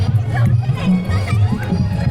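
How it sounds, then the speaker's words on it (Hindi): A large crowd mills about at a busy village fair, a dense babble of many voices, children among them, with people talking close by throughout. "और गाइस ये देखो मेले में कितनी बड़ी भीड़ लगी है"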